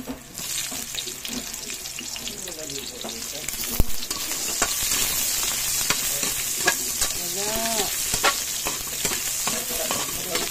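Onion and tofu fry in a pan with a steady broadband sizzle, broken by stirring scrapes and clatter and a few brief faucet-like water bursts, close and fairly loud throughout.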